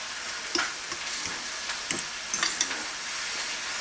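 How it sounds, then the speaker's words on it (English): Squash fritter batter being stirred in a bowl: soft, scraping swishes with several small clicks of a utensil against the sides, fairly quiet and steady over a hissy background, no talking. "Mix it around."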